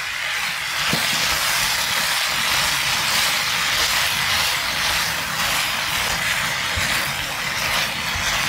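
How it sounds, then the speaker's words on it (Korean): Sauce poured into a hot pan of chop steak with vegetables sizzles in a loud, steady hiss that runs throughout, with faint scraping of stirring underneath. "이제 이 정도 됐으면 소스를 부어줍니다. 그리고 잘 섞어줄게요."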